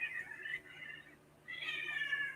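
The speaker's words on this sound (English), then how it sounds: "Mama cat came in and wanted the baby cat" A mother cat meows twice in long, drawn-out calls separated by a short pause, close and fairly clear, searching for her kitten indoors, with no talking.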